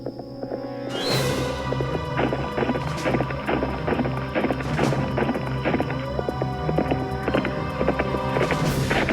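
Phantom horse hooves in the Nancy Drew game The Secret of Shadow Ranch clip-clop in a steady, fast rhythm over a humming background, loud and close with no talk.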